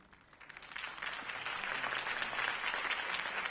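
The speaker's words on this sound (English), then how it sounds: "If only Mr. Wayne, my campaign's largest backer, could have heard that applause" Crowd applause in the video game Telltale's Batman swells from quiet to a sustained, dense clapping, moderately distant and even.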